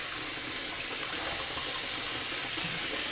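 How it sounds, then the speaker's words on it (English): Steady hiss of water running from a tap into a water bottle, continuous and fairly close with an even level throughout and no voices. "Let me fill up my water bottle."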